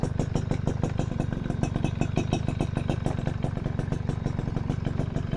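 Suzuki RC100 two-stroke motorcycle engine idling steadily nearby, a fast, even putter of exhaust pulses with mechanical clatter, running alone without talk.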